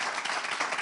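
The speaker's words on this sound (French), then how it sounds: "On peut applaudir pour bienvenue." Steady applause from an audience at a French game-show style contest, a dense wash of many hands clapping together.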